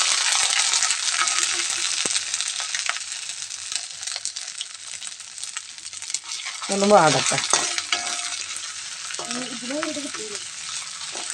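Steady crackling sizzle of crushed ginger, green chilli and garlic frying in hot oil after mustard seeds have popped, with stirring scrapes and a brief rattle partway through.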